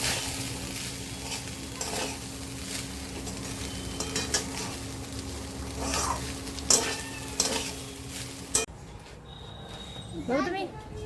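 Vegetables and rice fry in ghee in a pan, crackling and sizzling under steady stirring and scraping spatula strokes. A voice talks over it before the sizzle drops away near the end.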